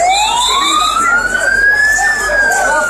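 A loud wailing ambulance siren sweeps slowly upward and then begins to fall, up close, over a busy background rumble, at a building collapse scene in Casablanca.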